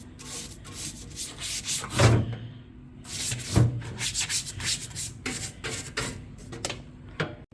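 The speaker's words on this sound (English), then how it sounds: "So this is all I'm going to clean my baffle right here." A grill baffle on a Blue Star grill scrubbed clean after cooking steak, with uneven back-and-forth rubbing and scraping strokes close by, some heavier bumps mixed in, and no talking.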